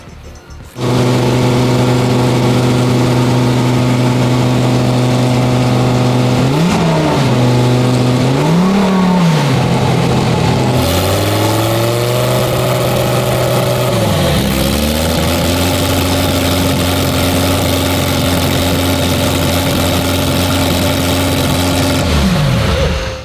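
A supercharged Lamborghini Huracan running on E85 idles loudly and steadily up close, broken by several sharp throttle blips that rise and fall with supercharger whine before settling back to idle.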